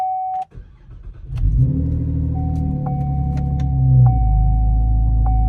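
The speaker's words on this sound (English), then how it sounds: "I'm gonna start her up and we'll see what happens." A Cadillac CTS with a brake booster vacuum hose fault cranks and starts, its engine settling into a steady close idle rumble, with a chime beeping repeatedly throughout.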